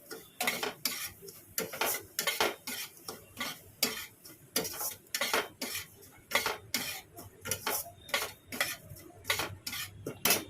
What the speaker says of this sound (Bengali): 100 সুজি দিয়ে করছি, 100 থাক, রাখা, বুঝলে। এবার ভালো করে ভাজবো লাল লাল করে।